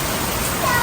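Heavy rain pours down in Brisbane as a steady, loud broadband wash that fills the whole short stretch, swelling slightly toward the end, with no voices over it.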